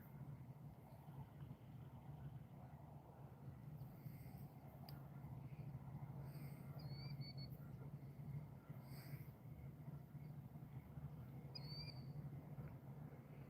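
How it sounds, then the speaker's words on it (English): A killdeer calls at night beside the water while someone is out night fishing, giving a few faint, thin high cries from a distance over a low steady rumble of background noise. "It's called a killdeer"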